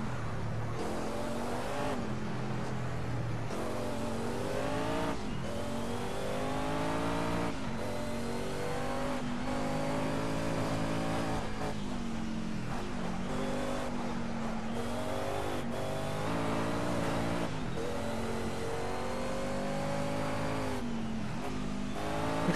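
A Sauber C9 Mercedes-Benz race car roars at Le Mans in the Project CARS video game, its loud engine revving up and dropping through repeated gear shifts, sustained and close with no talk.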